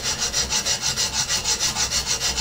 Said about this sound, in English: Just a little bit of draw filing here on these fresh machined edges.